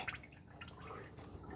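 Motor oil drips from a removed oil filter in a steady patter of small liquid drops, quiet and close, with no voices.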